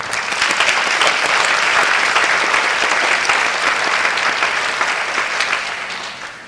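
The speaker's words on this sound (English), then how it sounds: "Please let's encourage our children by giving them a big round of applause" Loud, dense applause from an audience cheering on children at a graduation ceremony, steady for several seconds before gradually fading out.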